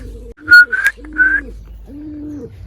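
Pigeon cooing close by while perched, giving a few soft, low, throaty coos mixed with brief higher whistling notes, in an otherwise quiet spot.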